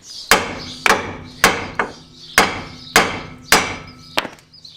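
A hammer strikes a chisel set against a Peugeot suspension arm to free a bush, giving about eight sharp metallic blows at a steady pace, each with a short ringing decay, close and loud with no talk.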